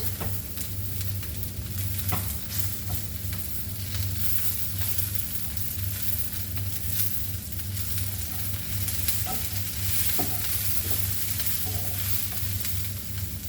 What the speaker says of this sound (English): Now we will add our chilies and give a light fry.